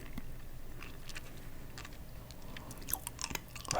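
Candy being chewed and crunched close to the mouth, a steady run of soft wet chews with sharper crunchy bites toward the end, quiet and intimate.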